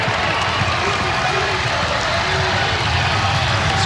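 A basketball arena crowd at a college game between VCU and Hofstra cheers and applauds in a steady, dense roar, with a commentator talking over it.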